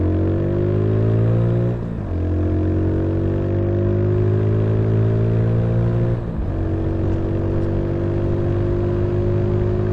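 A 2021 Mutt Mongrel motorcycle revs hard from a racing start in first gear, its engine note climbing loudly and steadily, then dipping briefly twice at gear shifts before rising again, close and with no talk.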